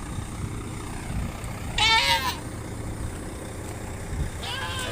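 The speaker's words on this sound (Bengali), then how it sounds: "এই যে আমাদের ছাগল, সবাই দোয়া করবেন আমাদের কোরবানির জন্য।" A goat for Qurbani bleats at the Boishakhala livestock market, with one loud, wavering bleat near the middle and a fainter call near the end, over a steady crowd and vehicle rumble.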